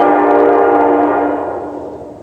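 A locomotive passes close by, its heavy rumble and rail noise filling the clip and sounding a horn, loud at first and fading steadily as it moves away.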